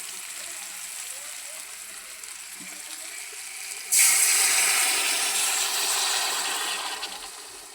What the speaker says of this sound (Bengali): গরম পানিটা এখন আমি জল দিয়ে দিলাম